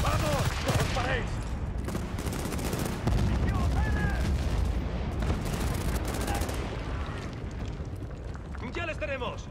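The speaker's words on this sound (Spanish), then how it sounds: "¡Ametralladora!" Machine gun fire and explosions rattle in Battlefield: Bad Company 2 during a combat mission, dense overlapping bursts under steady shouted soldier voices and battle noise throughout.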